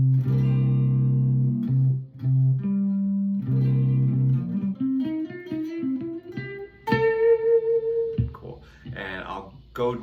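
An electric guitar runs through quick four-note diminished arpeggio groupings, starting with sustained low chord tones and then climbing through a fast series of single notes with some effects and reverb, ending in a bright ringing note.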